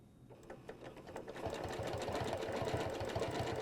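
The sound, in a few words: sewing machine stitching with a ruler template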